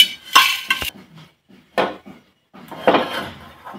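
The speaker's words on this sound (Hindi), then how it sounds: "और इसको एक प्लेट में निकाल लेती हूँ।" Fried vermicelli is scraped from a pan onto a plate in a few separate bursts of metal-on-metal clinks and scrapes, close and fairly loud, separated by brief quiet pauses.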